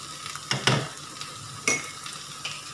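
Peppers with a little salt and spices being stirred as they fry in a pan, giving a soft continuous sizzle broken by a few distinct scraping strokes of the utensil, close and without talk.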